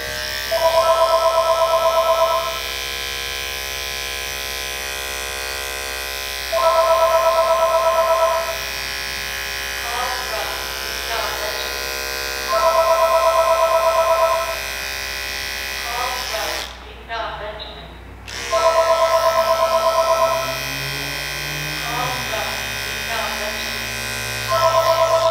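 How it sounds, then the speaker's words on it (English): Electric hair clippers with detachable blades buzz in repeated bursts of a few seconds as a barber cuts a skin taper, pausing between passes, with someone talking over the gaps and the buzzing. "Here comes my first guideline"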